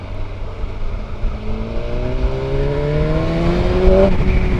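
A BMW M 1000 R Competition naked motorcycle revs hard, its engine note climbing steadily in pitch and growing louder over several seconds before it drops off sharply near the end.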